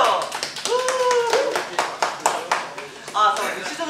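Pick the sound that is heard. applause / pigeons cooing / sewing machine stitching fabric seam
applause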